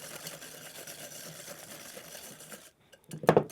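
A whisk beats vanilla into meringue for 1938-style corn flake macaroons, a steady, busy whirring rattle for about two and a half seconds that stops abruptly, followed after a short silence by a sharp clank.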